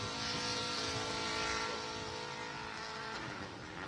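Subaru rallycross race cars at the start of the ARX finals at Mid-Ohio give a sustained, loud, buzzing engine roar with strained tonal notes, holding steady before easing slightly.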